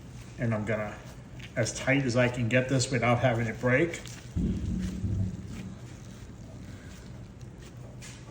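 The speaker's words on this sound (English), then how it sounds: "Yes, it's thundering and lightning out," Thunder rumbles low and steady in the background of a thunderstorm in Florida, a deep rolling sound beneath someone talking close up.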